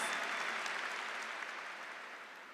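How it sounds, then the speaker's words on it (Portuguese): Audience clapping at a religious gathering, a steady wash of many hands that sounds somewhat distant and faint, tapering slightly toward the end. "você pode bater palmas sim"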